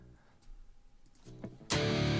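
Crunchy, distorted electric guitar through an amp simulator bursts in loudly after a couple of seconds of quiet, faint noodling, ringing thick and sustained.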